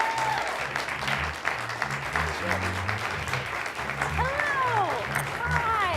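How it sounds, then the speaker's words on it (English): A studio audience gives a warm round of applause for two guests, a steady wash of clapping running beneath a host's voice and brief chatter. "Can I get a warm round of applause for the dynamic duo?"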